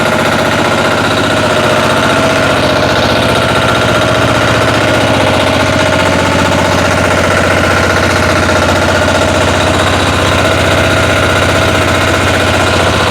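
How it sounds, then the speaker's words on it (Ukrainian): A walk-behind tractor (motoblock) engine runs loud and close with a steady, rough mechanical drone and knocking vibration throughout, with no talk over it. "Ось цей мотоблок я вже не втримаю."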